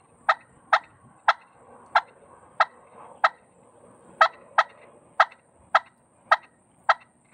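A push pin turkey call pointed downward gives a dozen sharp, evenly spaced clucks, each short and crisp, loud and close with quiet gaps between and no talking.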